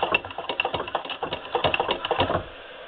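An 1872 Wheeler & Wilson treadle sewing machine running, a quick, steady mechanical clatter of ticking and tapping that continues for most of the clip and then fades out, heard close with no talk.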